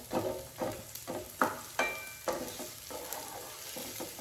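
One whole onion sizzles in a small electric skillet while being stirred, with a steady frying hiss broken by regular scraping strokes about every half second, close up and with no voices.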